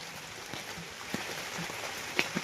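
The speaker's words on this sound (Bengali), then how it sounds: "বৃষ্টির ভিউটা দেখুন কেমন এই বৃষ্টি হচ্ছে" Evening rain falls over a rural Bengal village, a soft, even patter on surfaces with a few louder individual drops standing out, fairly quiet and steady throughout.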